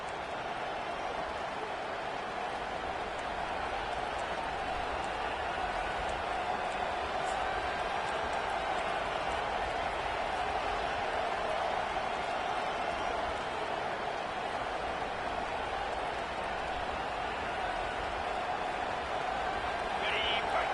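A college football stadium crowd, Arizona at Stanford, roars as a steady distant wash of cheering and noise throughout, with a commentator's voice faintly underneath.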